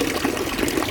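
Fresh Alpine water pours steadily from a public fountain in Lucerne, Switzerland, a close, even splashing rush with no break and no voices.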